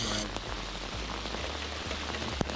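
Torrential rain pours down on Shawnigan Lake during a smallmouth bass fishing trip, a dense, steady hiss of drops pelting the water and nearby surfaces, close and loud throughout with a few sharper splats.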